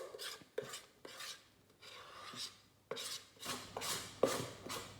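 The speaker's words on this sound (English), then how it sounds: "But I'm trying to scrape as much as I can out of the bowl." A spatula scrapes thick brownie batter from the sides of a mixing bowl in a home kitchen, giving repeated short rasping strokes with brief pauses between them. The scrapes are quiet and close, with no talking.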